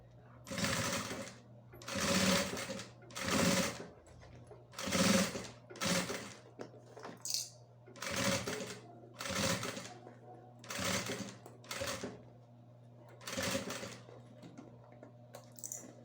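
Domestic sewing machine with a narrow presser foot stitching a seam on a crossbody bag, running in repeated short whirring bursts of about a second each, separated by brief pauses.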